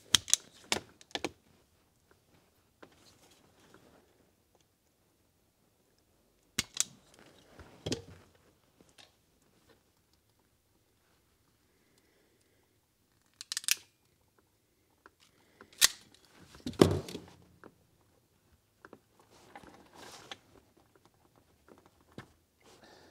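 Wire cutters snip through the wiring of a Cadillac Escalade's heated and ventilated seats, giving sharp isolated clicks spread across long quiet stretches, several in quick little clusters.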